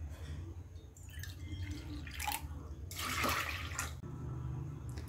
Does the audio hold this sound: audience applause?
no